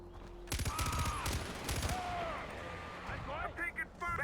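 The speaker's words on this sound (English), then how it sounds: "I'm taking fire!" Gunfire in the Far Cry 4 shooter game, rapid bursts of shots, loud and close early on, then scattered distant cracks under shouted voices and game effects.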